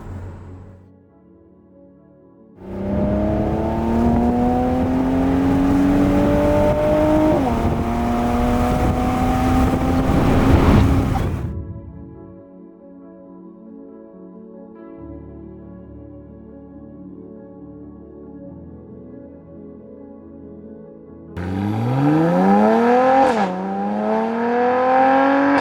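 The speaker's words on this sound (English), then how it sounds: "Mercedes C43 AMG full carbon package with the exhaust" A Mercedes C43 AMG with a carbon package and upgraded exhaust revs up in two loud, rising engine pulls with a gear change, separated by a quieter stretch of steady low idle.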